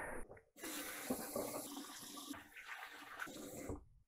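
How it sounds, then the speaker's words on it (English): Tap water running at a sink for handwashing, a steady close splashing stream that starts abruptly after a brief gap and fades out at the end. "I need to wash my hands again."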